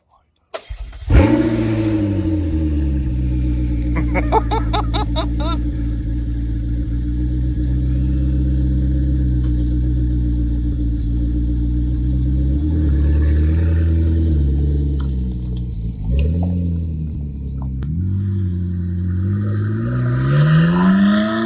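A McLaren 12C sports car starts up and pulls away, its loud engine note holding steady through a long drive-off, then rising and dipping with gear changes and revs, with occasional voices underneath.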